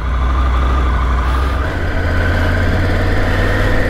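A Triumph Tiger 900 GT motorcycle idles while warming up, a steady, close, continuous low engine rumble with no pauses or revving.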